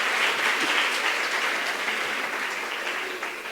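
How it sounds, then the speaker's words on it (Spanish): A conference audience applauds to welcome a doctor to the lectern, dense steady clapping from many hands filling the room, gradually easing off toward the end with no voices over it. "Recibamos con un gran aplauso al doctor Alexandre de Pomposo"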